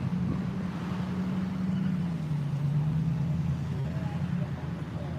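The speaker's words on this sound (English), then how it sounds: "The silver car is taking off when that last black truck drives by me." A silver car accelerates away as a black truck drives past, a steady loud low engine and road roar with wind buffeting close to the microphone, the engine pitch shifting slightly as it pulls off.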